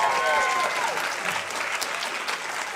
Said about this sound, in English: can we have another round of applause for our very first woman CEO and President of